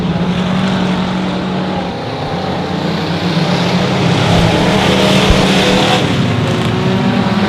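Hobby stock race cars roar around a dirt speedway, a loud, continuous engine drone that swells slightly as the pack passes close.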